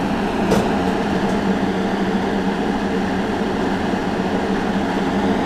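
A steady, loud mechanical drone from a grain separator with a fan, cleaning wheat, low rumble and broad whirring noise, continuous and unbroken throughout, running close by.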